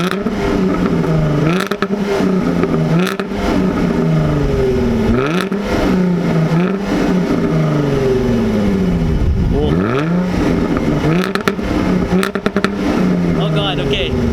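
A Jaguar F-Type V6 S engine revs repeatedly, loud and close, rising and falling in strong sweeping blips with a throaty exhaust note for over ten seconds.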